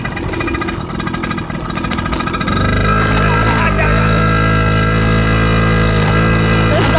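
Two motorcycles ridden together, a steady, loud engine drone with a constant pitch that settles into an even hum after a few seconds, close by, with no talk over it.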